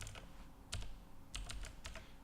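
Keys clack on a computer keyboard in a few short bursts of quick taps with pauses between, quiet and close, and no talking.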